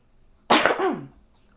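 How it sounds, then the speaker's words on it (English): A single close, sharp cough bursts out once from a storyteller, then trails off into quiet. "Sorry, I had to cough."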